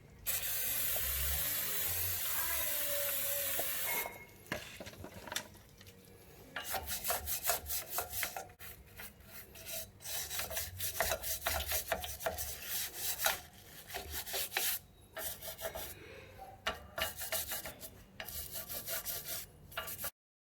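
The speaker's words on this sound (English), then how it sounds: "Now let's wash this hub." Degreaser sprayed and scrubbed over the rear brake hub of a Perodua Myvi: a steady hiss for about four seconds, then a run of uneven, close rubbing and scraping strokes with short pauses, no talking.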